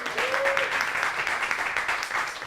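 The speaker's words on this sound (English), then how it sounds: "Give her a round of applause." An audience applauds steadily at a library unveiling, a dense wash of clapping filling the whole moment, with a brief voice rising above it near the start.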